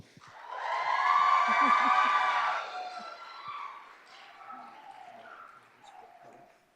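An audience at a school district governing board meeting cheers and applauds a teacher being honored, with a loud swell of whoops and voices that peaks early and then fades into scattered, quieter crowd noise.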